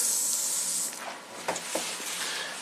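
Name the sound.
water spraying onto a car window and sunroof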